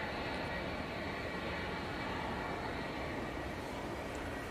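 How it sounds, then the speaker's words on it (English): An EasyJet airliner arriving at Manchester gives a constant, fairly distant broadband roar with a faint high whine, even in level from start to finish. "Yeah, we've got an EasyJet arriving."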